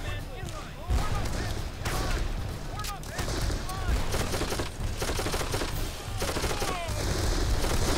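Futuristic weapon fire in the shooter Darkest of Days: continuous rapid bursts of shots crackling loudly through the whole stretch, with occasional heavier thumps mixed in.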